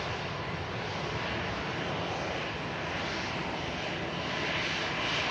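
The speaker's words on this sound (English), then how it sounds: "An EasyJet on the south side on its way out to Venice as an Aer Lingus arrives in from Dublin." An EasyJet airliner departing Manchester Airport produces a steady distant jet roar, broad and even throughout, slightly swelling toward the end, with no speech.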